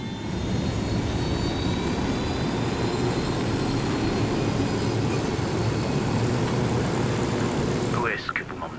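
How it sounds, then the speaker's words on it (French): Helicopter flight in the video game Ghost Recon Wildlands, a loud continuous engine and rotor roar held steady throughout, with a brief change at the very end. "On prend l'hélico?"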